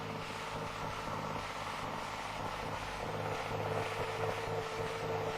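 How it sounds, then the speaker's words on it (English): Vickers VR180 tractor scraper engine running in earth-moving work, a steady, loud mechanical drone with a constant tonal hum and no pauses, heard without talk. "This is the tractor scraper unit that is really matched for faster earth moving."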